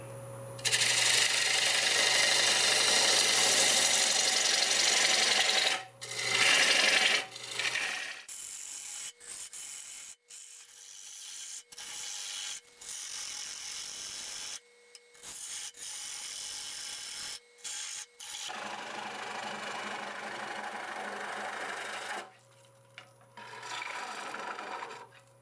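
Half-inch bowl gouge cutting spalted walnut on a spinning wood lathe, loud close rasping shear with a steady motor hum, broken into bursts of cutting separated by quieter clicks and pauses.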